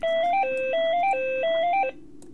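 A phone rings with an incoming call in a melodic ringtone, three repeated rising-and-falling note phrases, loud and close. It stops abruptly after about two seconds, leaving quiet background hum.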